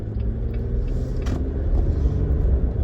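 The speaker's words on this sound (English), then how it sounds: "whenever I'm driving my Rubicon on the freeway" Steady road rumble and engine drone inside a two-door Jeep Rubicon JL cruising on the freeway, a constant loud low hum with faint brief rattles and no talking.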